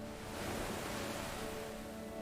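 Ocean waves wash continuously at the seashore, a soft, even roar of surf that stays faint and steady with no voices.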